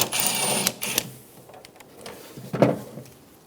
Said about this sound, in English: Remove the 10mm bolt on the bottom right of the reservoir.